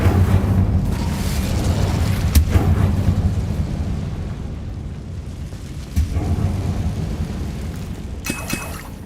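An Incendio fire spell in Hogwarts Legacy bursts out as a loud rumbling, roaring blast that fills the stretch, with a couple of sharper thumps before it trails off.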